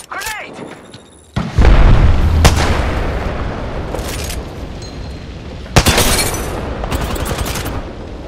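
A grenade blast in the battle-royale shooter Apex Legends: a loud, sharp boom lands near, then gunfire bursts and another crack follow amid chaotic combat noise and game voice callouts.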